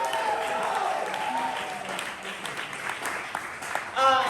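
Audience at a poetry slam applauds a poet, a moderate crowd clapping that thins slightly, with a voice speaking over it near the end.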